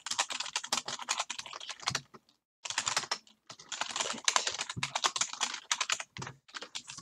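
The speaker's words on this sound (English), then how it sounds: "I'm gonna type in, for example, print hello." Rapid typing on a computer keyboard, bursts of crisp close key clicks separated by short pauses, with no talking.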